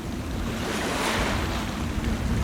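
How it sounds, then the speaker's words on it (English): Atlantic surf at Nuns Beach, Ballybunion, below tall cliffs on the wild coast of County Kerry, with a strong tide running. Waves roll in and break with a continuous loud wash, and wind buffets the microphone. "where waves rise and fall with ancient rhythm"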